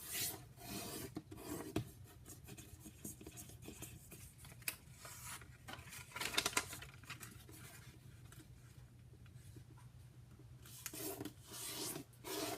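Paper is folded and creased for an origami Chinese vase, with close, dry rubbing and rasping strokes, soft crinkles and sharper scrapes spread irregularly, no talking.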